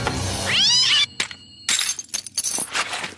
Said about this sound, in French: Oh, pardon, pauvre petit minou.